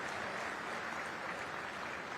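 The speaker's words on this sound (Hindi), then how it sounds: "मुझे लगता है ताली वाली तो मिलना" A crowd at the MP Global Investors Summit claps in a dense, continuous wash of applause that holds at an even level throughout, with no voices standing out.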